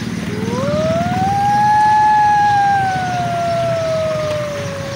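A child imitates a police siren with his voice, a single loud wailing tone that sweeps upward, holds and slowly falls, with a quieter background murmur underneath.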